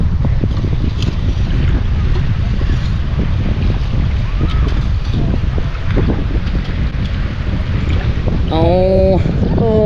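Blustery storm wind pours over a Florida shelling beach at Pass-A-Grille, a continuous loud rush with microphone buffeting and distant surf, and a brief bird-like chirping near the end.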